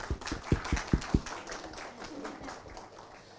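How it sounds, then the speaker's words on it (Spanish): A small audience claps briefly for a presenter named Marty at a talk: a handful of sharp, close claps at first, then softer scattered clapping trailing off. "Un aplauso para Marty."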